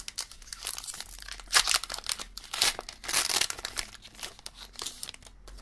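A Pokémon Cosmic Eclipse booster pack wrapper is torn and crinkled open, with soft, close crackling rustles arriving in irregular bursts against quiet.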